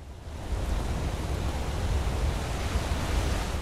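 A waterfall in the video game Skyrim gives off a steady, broad roar of rushing water. It sounds full and constant, with heavy low rumble and no voices.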